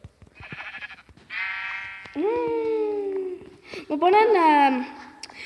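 Minecraft sheep bleat several times in quick succession, wavering nasal calls that come close and fairly loud, with brief pauses between them and faint game clicks underneath.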